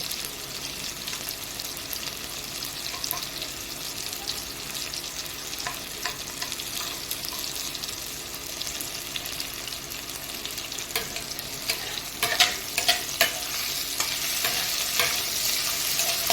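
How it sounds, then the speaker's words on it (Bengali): Frying in a pan for a katla fish head curry, with dried red chillies just added: a continuous close sizzle under scraping stirring strokes that grow busier toward the end. No voices. "খুব সুন্দরভাবে ভাজা ভাজা হয়ে গেছে।"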